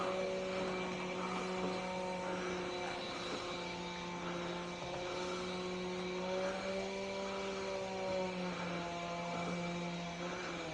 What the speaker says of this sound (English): See if I can get it under this drone.